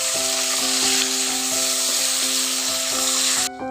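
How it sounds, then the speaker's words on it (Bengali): Chopped onion frying in oil with cloves and cinnamon for a chicken dish, giving a loud, dense, continuous sizzle over a steady mechanical hum that cuts off abruptly at the end. "এবার দিয়ে দিচ্ছি পেঁয়াজ কুচি পেঁয়াজটাকে একটু ভালো করে ভেজে নেব"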